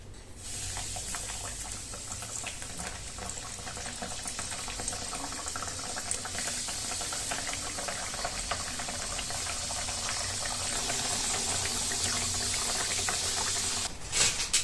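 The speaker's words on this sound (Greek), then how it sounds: "Και συνεχίζουμε κατά τον ίδιο τρόπο μέχρι να τελειώσουμε με το τηγάνισμα στις δίπλες μας." Diples dough frying in hot oil, a steady bubbling hiss that runs the whole time with occasional crackle and brief clatter near the end, no voices.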